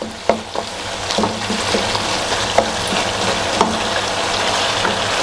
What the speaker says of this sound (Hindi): देखो चिकन को इस तरह फ्राई करना है, गोल्डन ब्राउन इसका कलर करना है